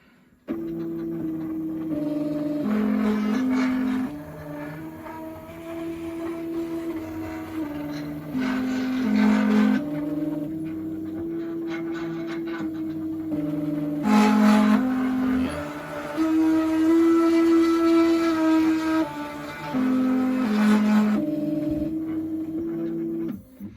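An XPro V5 CNC machine runs with loud, steady stepper-motor tones whose pitch keeps shifting in stepped segments, with intermittent harsher, rougher stretches from a balking fault near the 45-degree moves.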